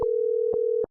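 A telephone line tone sounds during a test call to a radio show's call-in number, one steady unbroken pitch lasting nearly a second, clear and alone with no voices.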